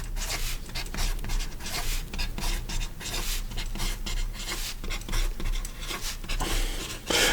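A TWSBI Vac700 fountain pen nib writes fast across paper, making continuous scratchy, rustling strokes with quick rhythmic bursts, close and steady for the whole stretch.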